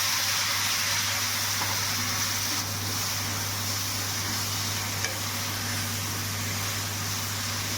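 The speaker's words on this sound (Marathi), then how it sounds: "मस्त डाळ कांदा आता परतायला चालू केलेलं आहे मी." Dal and onion frying together in a pan on a home stove, heard as a steady, loud, close sizzle that hisses on without pause, with a faint stirring scrape now and then and no talk.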